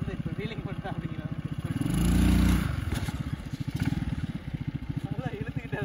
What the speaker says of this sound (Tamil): நல்லா இழுத்துக்கிட்டு அது பாட்டில் ஓடுதுங்க.